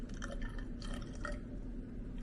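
Water carefully poured into a glass test tube up to a fill line for an ethanol test on gas station fuel, a few soft drips and trickling splashes close by, with no voices.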